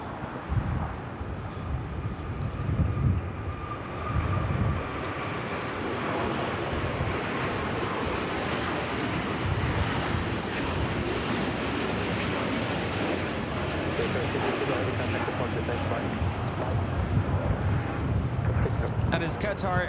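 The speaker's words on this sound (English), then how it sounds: "That is Qatar Airways 740 taking off to Doha on the A350 1000." Qatar Airways Airbus A350-1000 jet taking off on a busy airport runway, a loud, steady broadband engine roar sustained throughout with wind buffeting the microphone.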